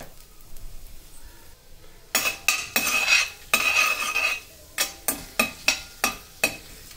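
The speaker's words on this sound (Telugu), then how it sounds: "వీటిని 1 నిమిషం వేయించుకున్న తర్వాత" Dried red chillies, mustard seeds and cumin seeds frying in hot oil for a savoury peas snack, with bursts of sizzling and crackling followed by a run of sharp, evenly spaced metallic clinks of a spoon against the pan.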